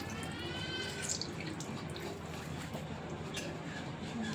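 Excess water drains and trickles from a soaked paper pulp mixture for a homemade flower pot, a faint, continuous wet dribbling and splashing at close range.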